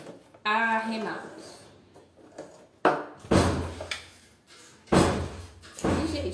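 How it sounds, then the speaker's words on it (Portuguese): A door bangs repeatedly, several loud thuds and knocks spaced irregularly, mixed with someone speaking nearby. "Esse barulho de porta atrapalhando a live."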